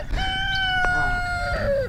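A rooster crows once, close and loud, in a single sustained cock-a-doodle-doo that holds steady and then trails off at the end.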